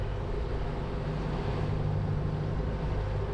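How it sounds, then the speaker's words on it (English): A sailboat's engine running steadily at very low cruising speed while heading downwind across the Gulf of Carpentaria, a continuous low drone mixed with wind and water noise, no voices. "That's why I'm running the engine right now. We're just sort of very low cruising speed heading downwind."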